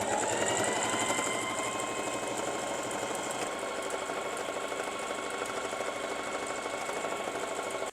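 Sewing machine stitching a duffel bag made from a rice bag, running continuously as a fast, even mechanical whir and rattle that stays steady throughout.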